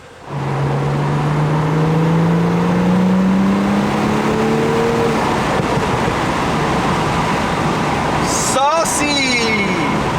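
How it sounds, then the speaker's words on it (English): Modified BMW 335i accelerating hard, engine note climbing steadily through gears, then a brief cut and renewed pull near the end, loud and close from inside the car with voices talking. "It went over 100 miles an hour like nothing."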